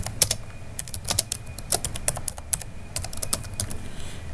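Fingers type a short group name on a computer keyboard, a quick irregular run of crisp key clicks with brief pauses, close and clear with no talk.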